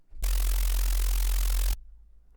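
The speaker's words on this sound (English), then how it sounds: "What that does is pretty much create that flutter effect" A Serum 2 synth patch, its sub-oscillator mapped to the noise level for a flutter effect, plays one loud, sustained burst of hissing noise over a deep sub tone for about one and a half seconds, then cuts to near silence.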